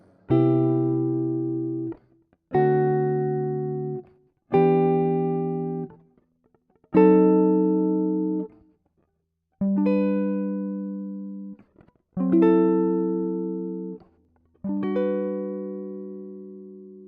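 Seven jazzy seventh-type pentad chords struck one after another on a clean electric instrument, each ringing and decaying for about two seconds before the next, close and alone.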